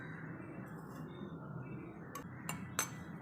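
A few faint clinks of plates or dishes near the end over a low background hum.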